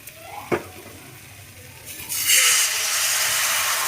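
Patishapta batter frying in a pan: a soft knock, then a sudden loud sizzle that swells as the batter hits the hot surface and keeps hissing steadily.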